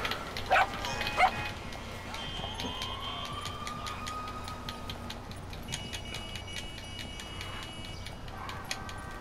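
A dog barks in Grand Theft Auto, two short sharp barks near the start, followed by a wailing police siren sweep and other game noises in the background.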